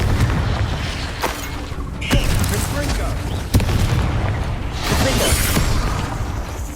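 A Confringo fire spell blasts in the Hogwarts Legacy video game, loud booming explosions and sharp cracking impacts erupting several times over a continuous roar of combat noise.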